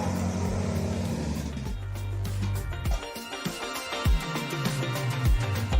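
Road traffic in Hungary rumbles steadily around a cyclist, with a low engine drone that shifts and fades and passing vehicles sweeping by, fairly close and continuous.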